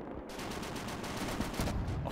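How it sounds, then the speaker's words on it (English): Heavy machine gun fire in the Gates of Hell war game during a river-crossing tank battle: dense, continuous rapid bursts that fill the whole moment, loud and close with no voices. "that is some heavy machine gun fire right now"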